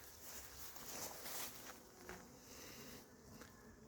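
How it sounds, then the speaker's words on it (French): A hornet flies while hunting near a beehive at an apiary in the late afternoon, giving a faint, wavering buzz that rises and falls against quiet outdoor background. "Voilà un frelon qui chasse."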